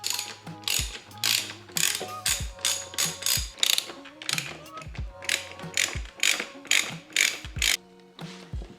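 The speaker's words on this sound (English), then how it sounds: "The last step is to loosen up these bolts on each side of the top triple clamp, and that'll loosen this whole thing up" Ratchet wrench clicks rapidly in repeated bursts while loosening the bolts on the upper triple clamp of an Aprilia RS660, close and clear, with short pauses between strokes and no voices.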